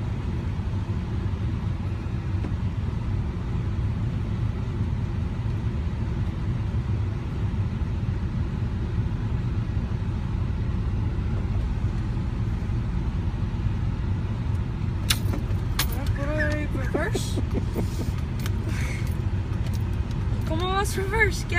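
Car engine idling and creeping during a driving lesson, a steady low rumble running throughout, with people talking over it near the end.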